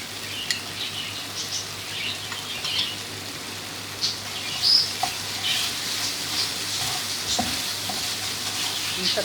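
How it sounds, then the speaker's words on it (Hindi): Onion and ginger fry in a pan with a steady, close sizzle and occasional stirring scrapes, running continuously at moderate level without speech. "इन सबको अच्छे से भून लेंगे।"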